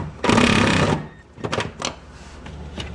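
A drill bites into the floorboard of a Camaro, widening an existing hole: one loud, steady whine lasting under a second, followed by a few shorter, quieter bursts and clunks of metal.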